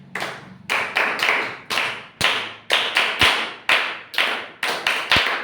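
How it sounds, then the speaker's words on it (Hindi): Several bursts of hand clapping from a group of students in a classroom, each round a quick flurry of claps that fades, repeated about ten times in a steady rhythm, fairly loud and with no talking. "इसके लिए गुड क्लैपिंग करो भैया।"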